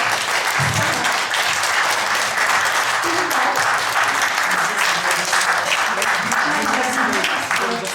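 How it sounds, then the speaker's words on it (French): An audience at a Santeny youth event applauds the organizing team, producing a sustained wash of clapping with some voices and cheers mixed in throughout. "on va les applaudir"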